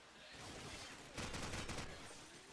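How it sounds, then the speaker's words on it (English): Gunfire in Call of Duty 4 during a competitive match, a rapid burst of automatic rifle fire heard faintly beneath steady background game noise. "Does take out Azuma with the AK"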